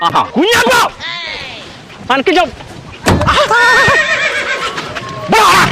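Horse neighing repeatedly in a park, several loud whinnies with rising and falling pitch, near and prominent, mixed with people talking around it.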